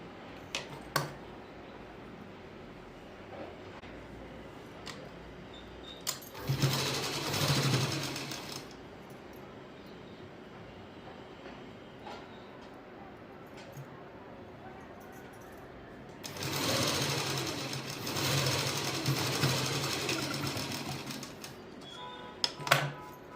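A sewing machine stitches a double-folded hem on a ghagra in two steady runs, a few seconds each, separated by quieter handling noise and faint background sounds.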